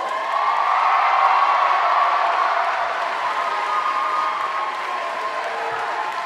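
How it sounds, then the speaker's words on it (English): A crowd at a 2016 high school graduation ceremony applauds and cheers in a sustained, steady roar, with whoops mixed in and no single voice standing out. "Hold your applause, okay?"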